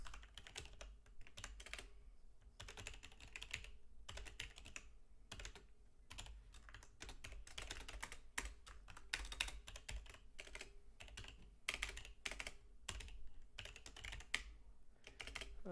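Typing on a computer keyboard while coding, heard as quiet, close key clicks in uneven bursts with short pauses, steady and faint throughout, with no voices.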